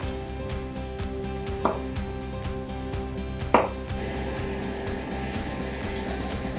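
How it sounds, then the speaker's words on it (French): A knife cuts a potato into a cube on a cutting board for a duck roll dish, with two sharp chopping knocks standing out over a steady low background hum, no talking. "On va couper ce qu'on a besoin pour le plat."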